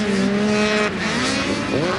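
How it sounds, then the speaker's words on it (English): A four-stroke snowmobile engine grumbles and whines while racing in an adaptive snocross final at the Winter X Games, with pitch rising and dipping through short bursts of throttle. "you can hear the grumble of that 4-stroke engine"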